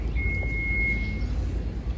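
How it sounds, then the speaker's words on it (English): Reversing vehicle on a Brooklyn street near the Navy Yard gives a single sustained electronic beep tone over low traffic rumble, moderately distant and clear. "Yep, that's someone backing up, I think. That beeping you hear."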